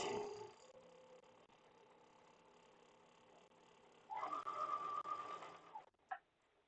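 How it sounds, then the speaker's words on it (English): A sewing machine runs in a quiet room, first a faint steady hum, then a louder close burst of stitching for about two seconds before it stops. "Make sure I'm not sewing up something."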